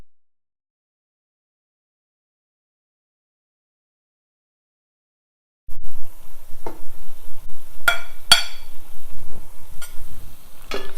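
Cilantro fried rice is stirred in an oily pan after a stretch of silence, with soft scraping and a few sharp clacks of the utensil over a faint sizzle, close and fairly quiet.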